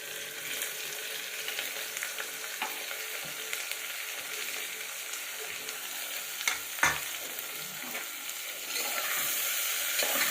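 Sliced onions, about a cup from three medium ones, sizzle and crackle steadily in hot oil for mutton gravy curry, with a few sharp spoon scrapes and stirring clanks against the pan; the hiss swells toward the end.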